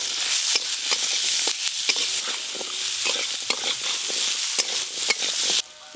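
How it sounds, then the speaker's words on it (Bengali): Chopped onion and olive potatoes fry in a pot for a dal, with a loud, continuous sizzle broken by frequent scraping stirs close by. "পেঁয়াজ আর জলপাই আলু একটু ভালো করে ভেজে নিয়েছি"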